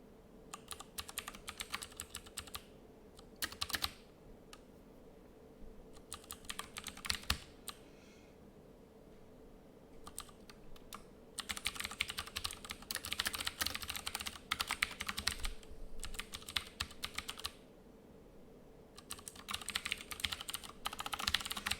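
Typing on a computer keyboard during a programming session, with dense bursts of rapid key clicks separated by short pauses and a steady low hum underneath, close and clear with no talking.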